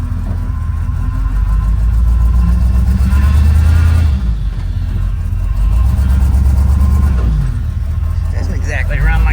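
A Chevrolet Suburban's engine drones loud and steady while the power steering strains under load as it crosses a field, a continuous low rumble with a voice speaking over it.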